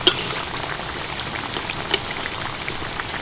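Kochuri deep-frying in hot oil over medium heat gives a dense, steady crackle and patter of tiny bubbling pops, fairly loud and close, with no voices.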